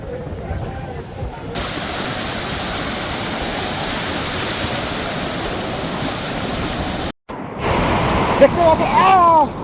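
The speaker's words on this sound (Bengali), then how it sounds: "একের পর এক ঢেউ কিন্তু আসতে পড়ছে" Continuous rushing surf roars steadily at the beach in New Digha, waves breaking in a broad wash of noise, briefly cut out once before resuming loudly.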